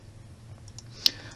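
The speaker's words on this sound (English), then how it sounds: "hold the control button on the keyboard and left click the mouse" A single sharp computer mouse click during dental implant planning software work, heard near and brief against a low background hum.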